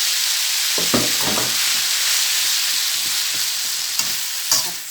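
Pad Thai with fresh shrimp stir-fried in an oiled wok: a loud, constant sizzle with occasional scraping and stirring knocks from the pan.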